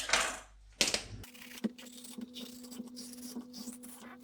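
A knife cuts peppers for an Italian peperonata, giving faint, quiet taps and clicks at an uneven pace against a board, with a couple of louder knocks at the start.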